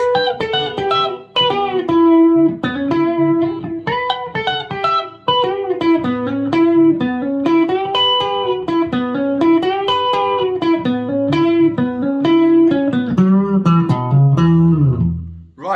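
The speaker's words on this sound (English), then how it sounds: "let's move on to the guitar solo, which should sound like this." A melodic electric guitar solo, with sustained, bending notes and a driven tone, played continuously with brief pauses.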